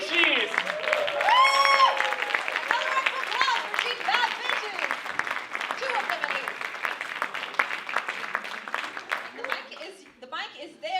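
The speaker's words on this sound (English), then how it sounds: "Un tonnerre d'applaudissements pour les Bad Bitches!" An audience at a hackathon live cinema show in Lausanne claps for the Bad Bitches team, loud at first and then thinning out, with music and a voice sounding over the clapping.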